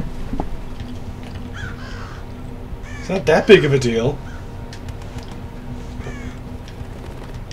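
A crow caws in a burst of harsh, rasping calls in the stealth video game Thief, loud and close for about a second, while a person talks over sparse ambient game sounds before and after.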